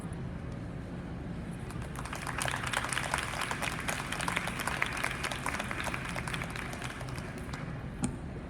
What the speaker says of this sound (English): Let's give another round of applause for them